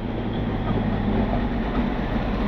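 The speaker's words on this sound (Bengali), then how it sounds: "বাহ, আবার টয় ট্রেন তো এখন আজকে পেয়ে গেলাম।" Kurseong toy train rumbling past on its narrow-gauge line in the cold hills, a steady low rolling roar held close and loud throughout with no voices.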